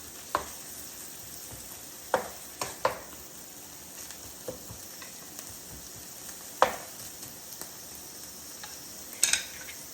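Onions, mushrooms and sliced ribeye frying in a hot pan with seasonings, a steady close sizzle broken by scattered clanks and scrapes of a utensil tossing the food, several sharp hits spaced irregularly.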